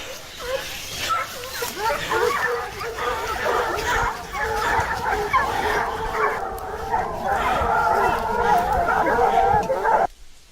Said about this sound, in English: Our hunting dogs were active, barking loudly to signal the location of the target.